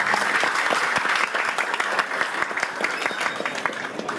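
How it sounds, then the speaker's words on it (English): Sustained, dense applause from an audience welcoming a guest speaker at a start-up event, steady and fairly loud throughout with no talk over it. "please join me in giving a round of applause to Mr. Anupam Saronwala"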